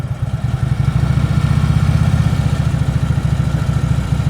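A motorcycle engine chugs in first gear during advanced slow-speed riding practice in North Carolina, a close, loud, rapid low pulsing that stays steady throughout without speech.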